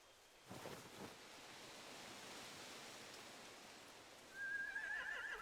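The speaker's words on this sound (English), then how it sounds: "They have horses." A horse whinnies in a thin, quavering call near the end in the video game The Walking Dead: The Final Season, following a soft steady wash of ambient noise and a couple of dull thuds.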